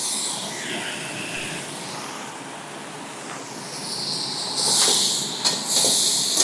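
Carambola chutney with ginger sizzling as it is stirred in a pan, a steady close hiss that swells louder in the final seconds, with no voices.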